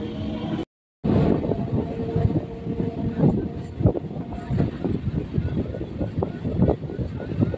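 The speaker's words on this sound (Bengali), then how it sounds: "আমাদের ট্রেন এখন পুরোপুরি শিয়ালদহ স্টেশন ছেড়ে বেরিয়ে গেল" Sealdah–Budge Budge local train pulling out of Sealdah station, a steady rumbling run with wheel clatter and rattling carriage noise after a brief cut near the start, with voices mixed in.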